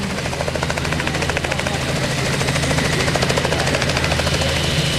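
A Robinson R44 helicopter approaches to land at an outdoor rotorcraft event, its rapid rotor chop thudding steadily and loudly over a continuous engine drone.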